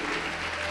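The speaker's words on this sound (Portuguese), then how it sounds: "Pode aplaudir, adorar e glorificar." Congregational applause during a church service led by a pastor, a steady dense wash of clapping filling a short moment.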